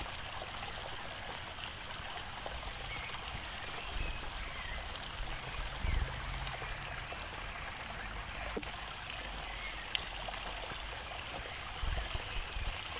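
A shallow river stream flows in a soft, steady wash with faint trickles and occasional drips, heard alone and at a moderate distance.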